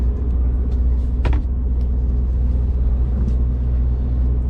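Steady low rumble of a car driving along a road, heard from inside as continuous engine and road noise with a brief sharper sound around the middle, no talking.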